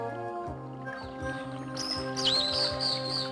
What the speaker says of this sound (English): The animals you will see most of are the musical spirits of the forest, namely birds.